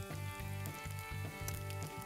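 Sweet potato and bacon latkes fry in a pan of hot oil, giving a steady close sizzle with crackling pops that pulse in short repeated bursts, with no talking.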